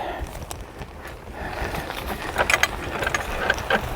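A ratcheting hive lifter is cranked beside a beehive, giving a run of quick metallic clicks that grow louder and more insistent toward the end, heard close by with no talking.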